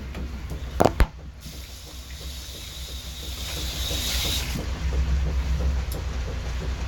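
Water runs from a bathroom sink tap during handwashing, a steady rushing hiss that swells midway, with a couple of sharp knocks at the start.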